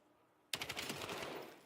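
Sudden burst of rapid automatic gunfire from a competitive video game match erupts after a quiet moment, a dense rattling stream of shots that holds for over a second before easing off.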